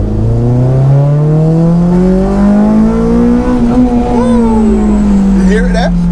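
A Honda engine with VTEC revs hard past about 6000 RPM in a modified car, a loud close engine note climbing and then shifting in tone as the pitch rises and eases, continuous throughout.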